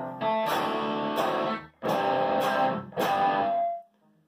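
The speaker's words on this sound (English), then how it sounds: "I've got a distortion pedal going and an amp on" Heavily distorted electric guitar chords from a Harley Benton Les Paul-style guitar with humbuckers, through a distortion pedal and amp, three sustained strummed bursts with brief gaps, ringing out at the end.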